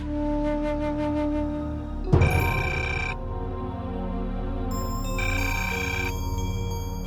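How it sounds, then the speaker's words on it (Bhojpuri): A telephone rings steadily over a low hum, breaking off into a sudden clatter of tones midway before ringing resumes in a bright, repeating electronic pattern; no speech. "फोन तो उठावा"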